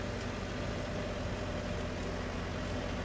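Tractor engine pulling a new disc harrow through a field, a steady, loud, low rumble that continues without a break.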